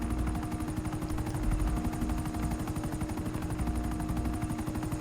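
Helicopter rotors from the GTA 5 video game, a steady loud chopping drone with rhythmic low thumping throughout, mixed with dense game noise that may include gunfire.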